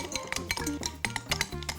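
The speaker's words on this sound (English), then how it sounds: "stir all of the ingredients round in a bowl" Spoon stirring a cheese and vegetable pasty filling in a bowl, a quick run of close scraping and clinking strokes against the bowl in an uneven rhythm.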